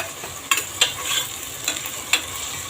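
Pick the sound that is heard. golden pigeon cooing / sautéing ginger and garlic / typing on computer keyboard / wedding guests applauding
sautéing ginger and garlic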